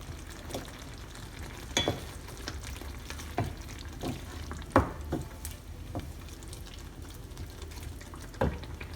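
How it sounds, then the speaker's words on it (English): Green peas go into a pan of sizzling green tomato curry, with steady close frying hiss and repeated sharp scraping stirs of a spoon against the pan, no voices. "Time to add green peas."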